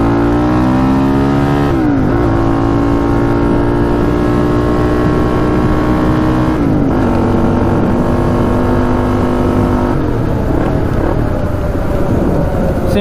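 A car on a test drive rumbles loudly and steadily from close by, its engine droning with a few shifts in pitch as it changes gear and accelerates.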